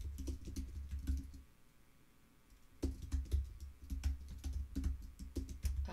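Typing on a computer keyboard up close: clusters of crisp key clicks in uneven bursts, a quieter pause in the middle, then rapid typing resumes with no talking.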